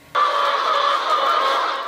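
Poultry on a chicken farm in Kisumu County, Kenya, raise a sudden, loud, continuous squawking din that fills the whole stretch close by, with no talking.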